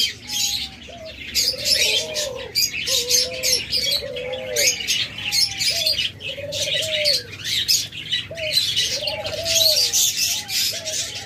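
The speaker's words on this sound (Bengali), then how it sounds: "সকল কালারের ঘুঘু পাখি পাবেন আমাদের কাছে" Pet doves, including diamond and java doves, coo in repeated soft rising calls mixed with scattered chirps, steady and close against a bright hiss of other small birds.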